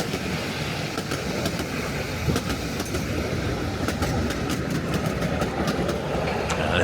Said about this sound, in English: it's got a phenomenal view of the trains coming past